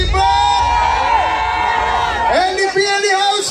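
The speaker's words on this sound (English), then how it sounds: "Lord, what a crowd of people." A large crowd at a night-time political rally in Georgetown cheers and shouts continuously and loudly, with whoops and voices rising over a dense roar while someone speaks over it.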